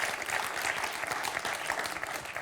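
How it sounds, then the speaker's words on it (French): Steady applause from a studio audience on a French quiz show, a dense continuous patter of clapping at moderate level, heard alone without talk. "Applaudissons Jean-Claude."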